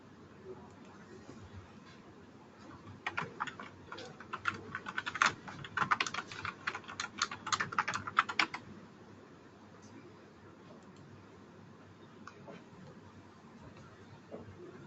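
Rapid typing on a computer keyboard during software configuration work, a dense burst of clicking keystrokes in the middle of the stretch with quieter scattered taps before and after, moderately close.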